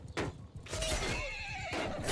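A horse in a video game neighs and whinnies in a loud, close, wavering call lasting about a second, with game effects and clip-clop sounds around it and no talk.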